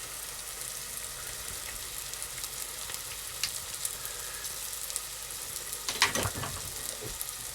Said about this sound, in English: So that's the spices just starting to catch.